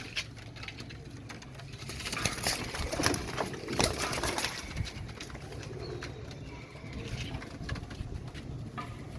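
Royal Teddy pigeons in a loft cooing softly among wing patter and shuffling, a steady mix of low murmurs and rustles throughout at moderate loudness.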